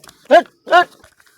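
A dog gives two loud, close barks about half a second apart, with quiet pauses around them.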